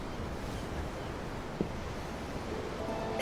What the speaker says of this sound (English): I'm looking at the ocean. The ocean? Yeah. The waves.